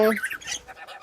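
A black-capped lory calls from inside its cage at a bird collection. It gives one brief, harsh squawk followed by a rougher, scratchy trailing call, close and fairly loud.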